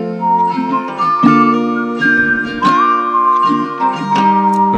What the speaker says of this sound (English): Are you just gonna add the whistle in there?